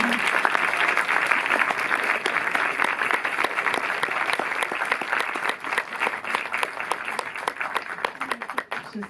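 Cinema audience at a film premiere in Paris breaking into sustained applause, dense steady clapping from a full house that holds strong and eases slightly toward the end.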